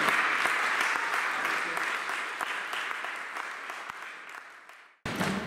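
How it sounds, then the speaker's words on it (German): A church congregation applauds together during a service, a steady crowd of clapping that gradually fades over several seconds before cutting off abruptly. "Geben wir mal Gott einen Applaus für die Kraft für Lotti."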